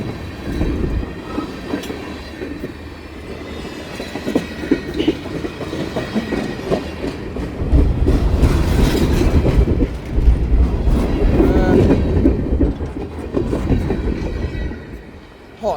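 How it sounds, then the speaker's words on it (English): A CSX freight train with tank cars and boxcars rolls past at night, a continuous rumble with rhythmic clickety-clack of wheels that swells louder midway and stays close throughout. "First train of the night, I got more to come"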